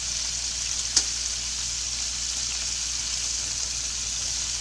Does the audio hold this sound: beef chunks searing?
yes